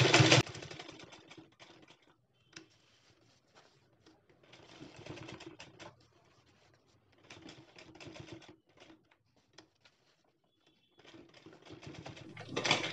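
A sewing machine stitches a belt onto the side of a fabric sling bag in short bursts of rapid mechanical clatter, separated by brief pauses, close and clear.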